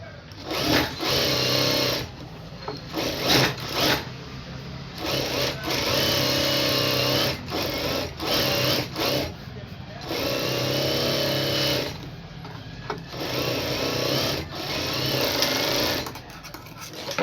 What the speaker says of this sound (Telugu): ఇప్పుడు దీని చుట్టూ కూడా మనము కుట్టు అనేది వేసేసుకోవాలి.